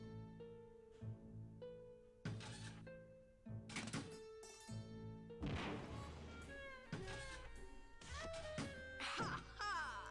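Video game scene from Grim Fandango in which a bomb is destroyed by a detonator: a string of hard knocks, clunks and a crashing burst layered over tonal music and effects, moderately loud and busy, with no voices.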